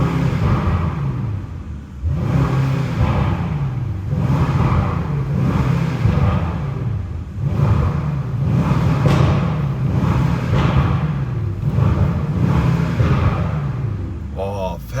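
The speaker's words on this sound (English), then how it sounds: "We'll be starting with the rev now." A 2024 Brabus Rocket GT1000 with its 1000 hp AMG V8 revved repeatedly, a series of rising and falling roars at a steady rhythm, loud and close.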